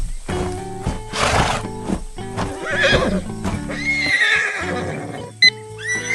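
Horses on a farm near a red barn and a blue truck with a trailer, with a loud shrill whinny, hooves clip-clopping close by, and another neigh rising near the end.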